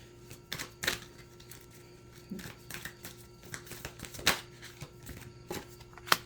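Tarot cards being shuffled and pulled make scattered crisp snaps, flicks and soft rustles close by, irregular and unaccompanied by speech.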